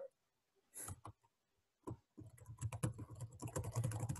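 Typing on a computer keyboard to enter a DNA sequence: a few isolated clicks at first, then a fast, dense run of close keystrokes, fairly quiet, with no talk.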